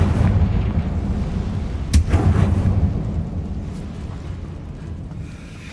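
Confringo blasting spell in Hogwarts Legacy going off as a heavy rumbling boom, with one sharp blast cracking out over a dense low roar that slowly fades.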